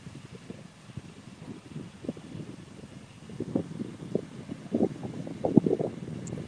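Outdoor wind gusts in Portland buffet the microphone as a low, rumbling roar that stays faint at first, then builds into heavier thumping bursts toward the end. No one speaks.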